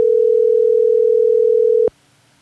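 A single steady telephone ringback tone on a call holds loud and unbroken for almost two seconds, then cuts off into near silence.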